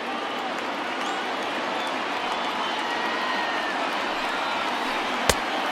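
Dense, steady roar of a stadium crowd of about 39,000 on its feet cheering at a baseball video game, broad and continuous throughout, with one sharp isolated crack near the end.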